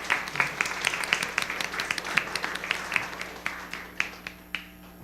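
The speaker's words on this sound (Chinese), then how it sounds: "我们拍手来欢迎他们" A church congregation at a Sunday worship service claps to welcome visitors: sharp, evenly spaced hand claps in a steady rhythm that thin out and soften toward the end, with a low hum underneath.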